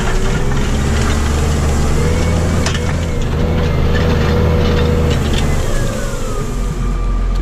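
Tractor engine held at steady high revs while it tills a narrow strip of soil for a false seedbed, a continuous loud low rumble with a slight rise in pitch, no talking.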